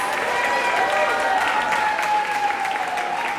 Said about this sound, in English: Give me one big round of applause for all 12 painters you saw tonight